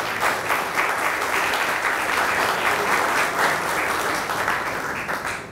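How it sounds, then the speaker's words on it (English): Dense, loud applause from an audience at an outdoor government grants announcement, a continuous wash of clapping that holds steady and begins to fade at the end. "Thank you, A, for the applause"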